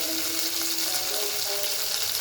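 Tomatoes and onions fry in a pan with a steady, close sizzle and faint stirring.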